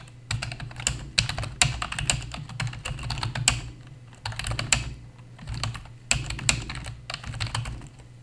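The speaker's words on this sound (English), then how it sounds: "And let's type something in here." Someone types a text document on a computer keyboard, with quick bursts of close, crisp key clicks broken by short pauses.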